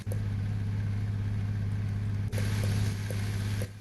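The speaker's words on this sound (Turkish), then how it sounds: "Drift yaparak döneceğim şimdi burada." A truck engine in Truck Simulator Ultimate holds a steady, loud low drone while the vehicle drifts through a turn, with a brief dip and a brighter surge partway through.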